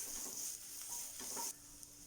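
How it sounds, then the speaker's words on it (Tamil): Vegetables sautéing in ghee for potato pasandhi, a soft steady sizzle with a spoon stirring and scraping the pan in a few brief strokes, close and quiet, with no voices. "இந்த 2 ஸ்பூன் நெய் விட்டு இப்போ எல்லாத்தையும் ஒண்ணா சேர்த்து வதக்கலாம்"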